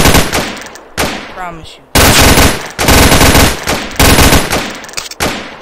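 Rapid machine-gun bursts from a video game fire in loud, dense volleys separated by short pauses, with a voice briefly speaking between them.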